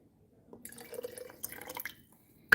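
Water is poured into a jar while a ginger bug soda starter is being made, a short splashing, trickling pour of about a second and a half, close and fairly quiet, ending in a small clink.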